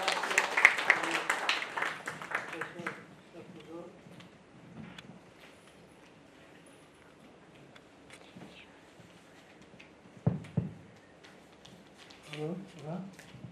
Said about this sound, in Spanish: un fuerte aplauso, me despido y dejo la palestra a su disposición